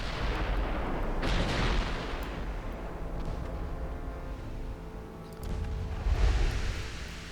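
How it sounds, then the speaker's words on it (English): Battleship guns fire in Ultimate Admiral: Dreadnoughts, with deep booming salvos over a constant rushing background roar. One salvo lands early and another near the end, and no one speaks. "Battleships firing off into the horizon."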